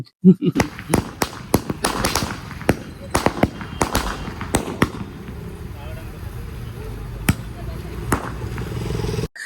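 Diwali firecrackers and bombs are lit outdoors: a rapid run of sharp, loud bangs and crackles, then sparser single blasts, with voices talking nearby.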